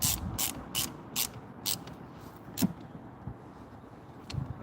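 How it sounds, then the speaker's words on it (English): A ratchet tightens a Fiat car battery with a quick run of about six crisp clicks, then a couple of scattered clicks and clunks, close and fairly quiet. "Now I'm just tighten on the battery."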